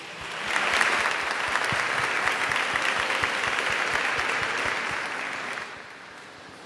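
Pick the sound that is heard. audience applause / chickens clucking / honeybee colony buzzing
audience applause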